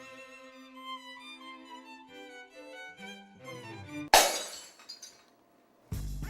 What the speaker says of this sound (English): Glass breaks in a science classroom.